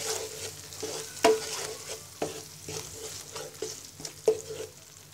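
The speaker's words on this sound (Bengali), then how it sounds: "এবার মশলার সাথে ভালো করে মিশিয়ে নিব।" Cream stirred into spice masala in a hot pan, a spoon scraping in steady strokes with a few sharp clacks against the metal over soft continuous sizzling.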